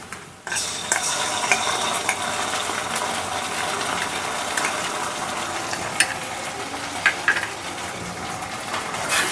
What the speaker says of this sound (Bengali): এবারে আমি দিয়ে দিচ্ছি রসুন বাটা আর আদা বাটা।